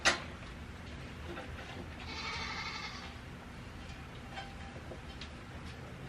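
A goat bleats once in a barn setting, a fairly close, drawn-out wavering call standing out from low background noise, with a brief knock at the start.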